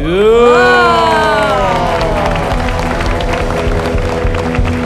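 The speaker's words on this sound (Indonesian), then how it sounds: "Cukup lama amat tepuk tangannya." An audience at an Indonesian community event on empowerment after the homecoming travel season gives loud, sustained applause and cheers. A strong, droning musical tone opens and then fades under the crowd noise.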